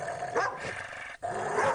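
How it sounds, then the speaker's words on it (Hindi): A dog named Tommy growls and barks in a short, close, fairly quiet outburst, with a brief gap before it resumes. "टॉमी उन पर भौंकने लगता है।"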